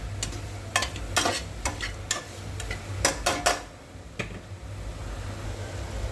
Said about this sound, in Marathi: हे सर्व मिक्स करून घ्यायचं.